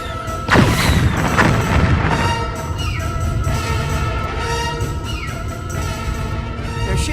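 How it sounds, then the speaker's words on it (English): Disruptor cannons from a Romulan warbird in a Star Trek video game fire at a ship: a sharp, heavy blast opens, then rumbling booms and crackling energy bursts roll on under a loud, dense battle din. "Target that ship and fire all disruptor cannons."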